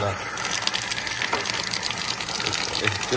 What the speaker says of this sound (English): If I twist this here, I get soda water.